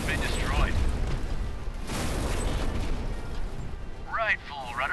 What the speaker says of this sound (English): Enemy vessel has been destroyed.